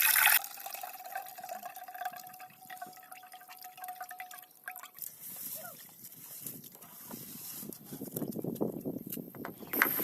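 Water mixed with pounded crab is strained into a separate vessel, giving a continuous trickling and splashing liquid flow of moderate loudness, heard under someone speaking.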